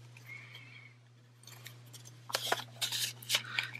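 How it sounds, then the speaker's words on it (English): Paper money bills get folded for a savings envelope box, soft crinkling at first, then a run of louder crisp rustles and creases up close over a low steady hum. "we're just going to fold it"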